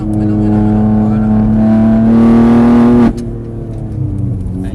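A vehicle engine revs hard at full throttle, its loud, close drone climbing steadily in pitch for about three seconds before the throttle snaps shut and it drops back to a lower idle.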